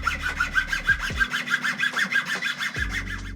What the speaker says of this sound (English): start with a very coarse, large triangle file to carve out the middle of the groove